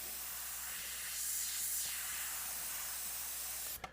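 An airbrush or spray can paints the wraps of a mummy figure with a steady close hiss lasting several seconds, ending with a sharp click.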